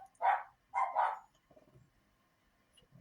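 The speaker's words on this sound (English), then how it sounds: "Fucking stupid dogs." Dogs barking, three loud close barks in quick succession, then quieter scattered sounds and a faint distant noise near the end, with no voices.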